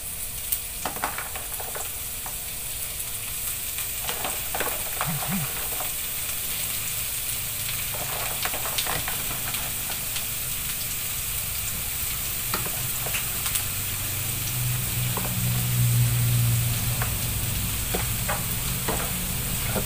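Bitter gourd (ampalaya) and katrops stir-fried in a pan, sizzling steadily throughout with scattered scraping and stirring clicks, close and fairly quiet, no voices.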